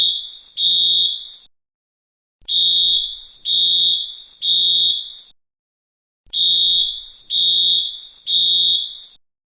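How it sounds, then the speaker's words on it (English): A school fire alarm blares in loud, harsh electronic buzzes, pulsing in groups of three with brief silent gaps between them, heard alone without voices. "there's a fire alarm down the hall"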